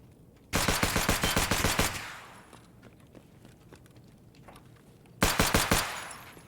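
Gunfire in Escape from Tarkov comes as two rapid automatic bursts of about a dozen sharp shots each, separated by a few seconds of quieter game ambience.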